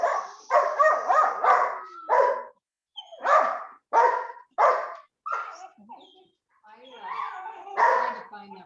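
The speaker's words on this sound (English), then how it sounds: "If you have the dog barking in the background, can you mute your mic, please?" A dog barks repeatedly in short, loud clusters, with yips and a whimpering edge, close to the microphone during an online keynote call; the barks come in uneven bursts separated by brief pauses.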